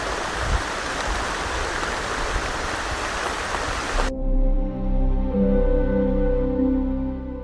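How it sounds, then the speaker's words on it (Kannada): Rain falling at the river confluence at Koodalasangama, a dense steady hiss of downpour for several seconds, then an abrupt switch to a low droning hum. "ಇವಾಗಾದರೂ ಮಳೆ ಆಗ್ತಾಯಿದೆ"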